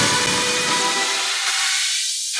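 An Endless Smile plugin build-up effect on a future bass track makes a loud, bright hiss-laden wash that sweeps upward, the low end thinning away as the filter rises over about two seconds.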